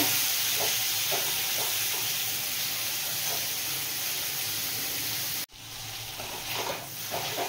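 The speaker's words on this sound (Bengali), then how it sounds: "আরও কিছুক্ষণ ভাজতে হবে, এরকম হালকা করে নাড়তে থাকতে হবে।" Butter garlic chicken pieces fry in a pan, a loud, continuous sizzling hiss with soft scraping strokes as they are gently stirred. There is a brief break near the end before the sizzle resumes.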